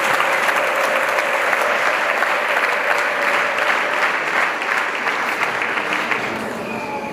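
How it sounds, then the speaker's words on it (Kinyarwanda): Sustained applause from a large audience at a Kinyarwanda-language religious gathering, dense steady clapping running throughout and easing slightly toward the end, with no voices on top. "Imana yacu tuyikomera amashyi menshi cyane."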